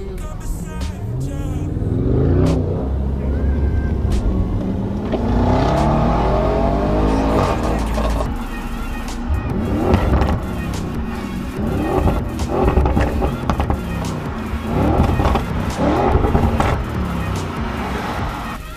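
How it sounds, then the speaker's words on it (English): A powerful Audi RS6 engine revs and roars nearby, rising and falling through gear changes with loud bursts of acceleration. "I hear the sound of this stunning RS6."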